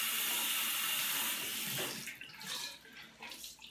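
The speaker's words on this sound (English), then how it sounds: "So first I'm gonna wash my face to get all the oils and stuff off my face" Tap water runs steadily into a sink while a face is washed, first as a continuous rush and then as broken splashes as hands scoop and rinse, close and clear.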